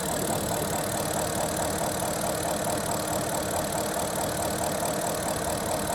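A Pontiac Solstice engine idles steadily and close by, a constant mechanical hum with a faint rattle, no voices, unchanging for the whole stretch.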